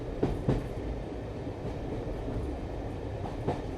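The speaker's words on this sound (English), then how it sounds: "I took a train inland" A train rolling inland through Morocco, with a steady low rumble of wheels on rails and faint rhythmic clatter, continuous and close throughout with no voices.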